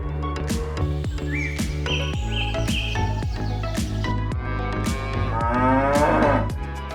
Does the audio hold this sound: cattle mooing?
yes